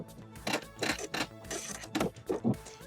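A sewing machine runs in short, uneven bursts while backstitching fabric on a DIY tube top, giving quick mechanical whirring and clattering pulses close by with brief pauses between them.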